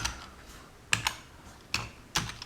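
Fingers typing on a computer keyboard with a few sharp, well-spaced keystrokes, one of them pressing Enter, close and clear with no talking.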